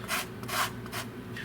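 Lemon being zested on a grater while making Italian lemon ice, three close, soft scraping strokes in an even rhythm with no talking.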